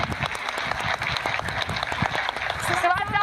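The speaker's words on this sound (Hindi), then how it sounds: "तालियों के साथ इनका स्वागत कीजिए" Studio audience applause greets a retired major general joining a Hindi news discussion, dense steady clapping throughout that swells slightly toward the end.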